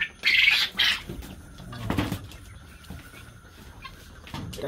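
Sonali chickens clucking close by, a few bursts early on, then quieter rustling and soft farmyard noise.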